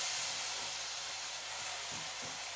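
Steady broadband hiss of stock simmering into risotto rice in a pan, continuous and fairly close, with faint low knocks underneath and no talking.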